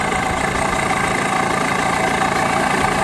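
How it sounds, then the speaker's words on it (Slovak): An engine on an Agzat PA100 carburetor, set for idle mixture adjustment, runs at a steady, even idle throughout, close and fairly loud with no voices over it. "Motor sa už ozval, začína oživovať sa."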